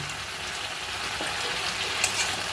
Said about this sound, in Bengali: এবারে আমি ফুলকপিগুলো ভাজা দিয়ে দেব